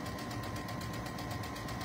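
Sewing machine running steadily at speed while stitching a seam held at a 5/8 inch width, a continuous close mechanical whir with fast rhythmic needle chatter and no talking.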